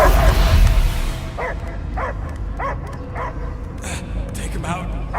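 A dog barks repeatedly in the video game Guardians of the Galaxy, a steady series of short yips and whimpers at a regular rhythm over a dense, rumbling game soundscape.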